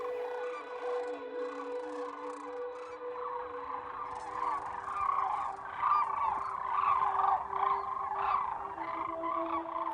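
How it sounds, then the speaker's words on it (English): Birds calling together in a steady, dense chorus of harsh, overlapping cries, fairly close and continuous, with no talking; sounds like crows and seagulls. "Crows and seagulls, their dire warnings."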